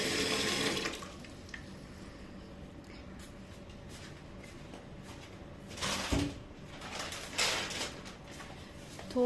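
Hot water from a geyser runs from a tap in a steady, soft stream, louder at first, with a few brief clunks and knocks along the way.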